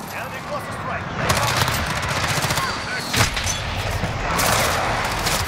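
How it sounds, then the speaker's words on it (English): Cluster strike explosions in a multiplayer shooter video game land as a rapid series of blasts and booming crackles over continuous background gunfire, with bursts peaking around the middle and end. "Enemy cluster strike."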